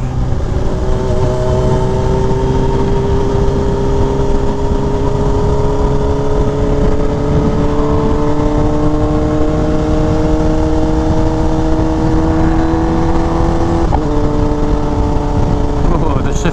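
A Yamaha R1M motorcycle engine runs loud and steady with rising, sustained revs, its tone climbing gradually throughout with a brief dip near the end.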